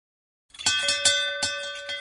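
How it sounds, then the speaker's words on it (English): A gong rings out to call a household to lunch, a bright metallic peal that starts after a half-second of silence and repeats in several ringing strokes with a sustained shimmering tone. "Then the gong pealed out,"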